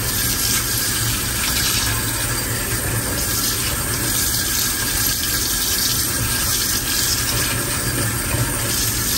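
Boiled jengkol beans are rinsed under running tap water, a loud, steady, continuous rush of water into a sink with no break.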